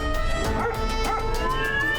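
Dogs bark, yip and whimper in a cartoon episode about a cat magician whose cats bother them, a few sharp close barks mixed with whining over a steady music bed.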